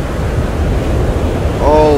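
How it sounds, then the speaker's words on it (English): Sandstorm wind in the survival game Arid roars as a steady, loud rush of broadband noise, close and enveloping, with a faint tonal whistle rising near the end. "I need to get the fuck out this sandstorm"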